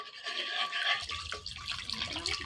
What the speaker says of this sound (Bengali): যে জলটা টকবক টকবক করতেছে, এগুলো দিয়ে দিতেছি বড়াগুলো।